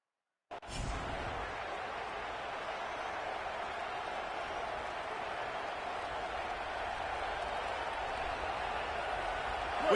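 Home crowd at a Michigan football game, a steady broad roar that holds at an even level throughout and swells slightly near the end.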